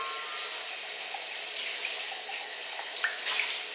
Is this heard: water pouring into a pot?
yes